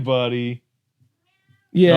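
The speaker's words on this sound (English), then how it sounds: "Oh, that was a cat." A house cat meows loudly and close by in two drawn-out calls separated by a short silence, while someone talks to it in between.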